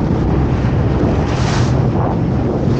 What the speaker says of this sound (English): Look at the wind. Oh my god, look how choppy it is.